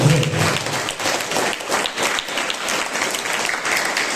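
An audience claps loudly at a school seminar, a dense, continuous burst of applause lasting about four seconds, close and full with no pauses.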